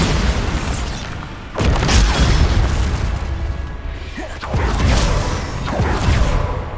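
Repeated Bombarda spell blasts in Hogwarts Legacy go off as a series of heavy booming explosions, each a sharp onset followed by rumbling debris, loud and close, with sweeping whooshes between impacts.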